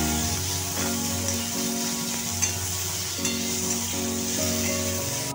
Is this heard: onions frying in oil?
yes